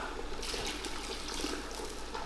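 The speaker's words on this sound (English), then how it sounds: "I should be adding 2 litres of water" Water is poured steadily into a pot of good-quality basmati rice, about one and three-quarter litres in all. The pour makes a continuous close splash and trickle with no talk over it.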